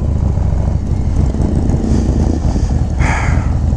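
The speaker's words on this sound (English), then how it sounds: "with the 483 Cyclerama cam on here. This cam sounds great. Combined together with the SB Concept exhaust," A Harley-Davidson Low Rider ST motorcycle with a stage 2 tune, Cyclerama 483 cam and SB Concept exhaust rumbles loudly up close, a deep steady throaty engine note with a brief rise near the end.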